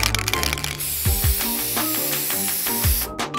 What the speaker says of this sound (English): Spraying down the bottle.